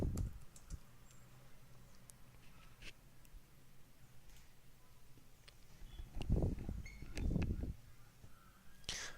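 A computer keyboard being typed on in irregular bursts of light clicks, quiet at first and then louder, denser clusters of keystrokes toward the end, with no talking.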